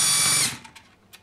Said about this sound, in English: It was my first cordless tool I bought, and I did a lot of transmissions with it.